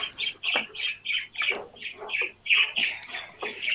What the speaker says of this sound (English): And I still hear the birds.